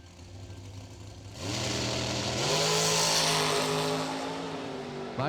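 A 2011 Page chassis dragster and a 2020 Miller chassis dragster start up at a drag strip, the engine pitch climbing as they launch and roar loudly down the track, then the noise settles into a sustained high drone.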